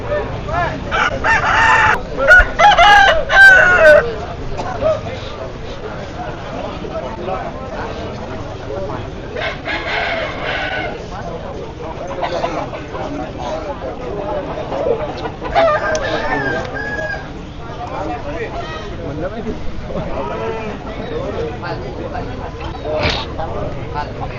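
Fighting roosters at a Balinese cockfight, clucking and crowing amid a noisy, crowded open-air arena with a steady murmur of spectators and no clear speech in front.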